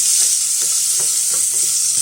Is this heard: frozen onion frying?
yes